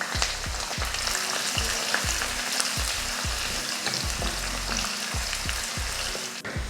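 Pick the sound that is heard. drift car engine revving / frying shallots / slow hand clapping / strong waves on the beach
frying shallots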